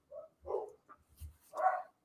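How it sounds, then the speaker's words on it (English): A dog barks several times in the background of a quiet room: short, faint yips and woofs in an uneven sequence, with a slightly longer bark at the end. "You got the pup in the background."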